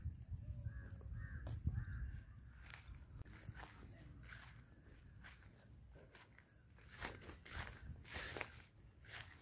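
Crows cawing over rice fields along a rural road in Jaffna, several harsh calls scattered through the clip over a steady low rumble, with faint footsteps nearby.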